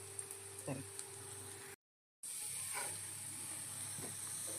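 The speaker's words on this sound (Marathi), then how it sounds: "पुन्हा अशी दोन्ही बाजून छान खरपूस भाजून घ्यायची आहे" Potato patties pan-roast in a hot pan, giving off a faint, steady sizzling hiss with a few soft crackles. The sound drops out briefly before the quiet frying resumes.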